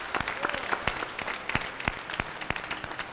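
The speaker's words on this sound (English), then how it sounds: "we're going to give the Lord a hand of a clap" A church congregation gives a round of clapping during a worship service. The separate hand claps sound moderately faint and a little distant, with an uneven rhythm, and a voice can be heard faintly beneath them.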